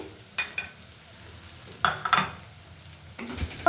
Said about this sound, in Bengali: এবার মা একটু ভেজে নেবে